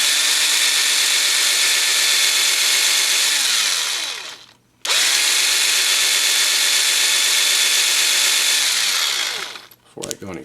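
A cheap, quiet electric drill bores into the front of a Hot Wheels car with a steady close whine, running in two long bursts with a short pause between, ending in a few clicks.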